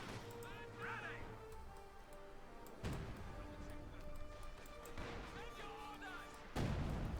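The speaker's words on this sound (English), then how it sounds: "Field gun bombarding, got 6 kills on it." A field gun bombarding in Company of Heroes 2, with heavy artillery thuds landing at intervals, a few sharp impacts standing out over a low, busy battlefield bed, quiet overall.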